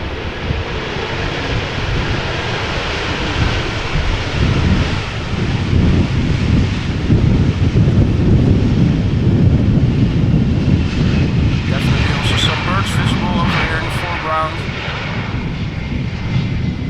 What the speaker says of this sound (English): Right, we have a Vueling arriving